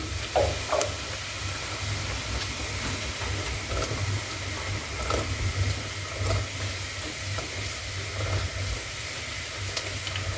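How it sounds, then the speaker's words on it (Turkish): Onions and mushrooms sautéing in a pan over raised heat make a steady close sizzle and hiss, broken by a few soft stirring clicks and scrapes, with no talking. "Şimdi gördüğünüz gibi kavuruyoruz"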